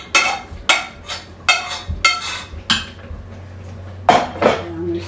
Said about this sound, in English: Now I'm just going to dump the noodles right into the gravy